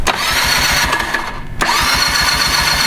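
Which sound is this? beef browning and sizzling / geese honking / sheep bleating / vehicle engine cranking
vehicle engine cranking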